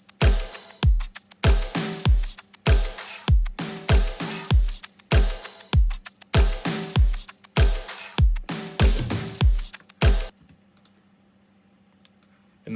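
A punchy electronic drum mix with thumping kicks and sharp snappy hits in a steady driving rhythm, stopping abruptly near the end.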